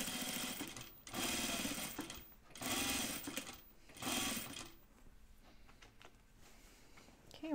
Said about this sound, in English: we know we're stitching on the neckband